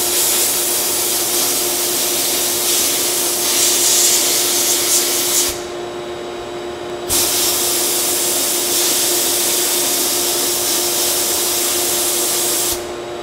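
A Harbor Freight blast cabinet sandblaster strips rust with a loud, continuous hissing spray over a vacuum's steady whine, cutting out briefly twice before resuming.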